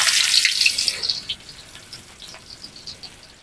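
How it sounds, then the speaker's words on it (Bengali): Water poured into a pan of onions and chillies frying in oil over a clay stove gives a sharp burst of hissing spatter that fades over about two seconds into scattered soft crackles. "এখন একটু পানি দিয়ে দিব"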